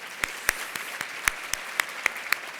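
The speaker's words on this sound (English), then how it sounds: "Can you please give her a round of applause?" Sparse, scattered applause from a gala awards audience, individual claps standing out distinctly in an irregular rhythm, fairly faint and distant.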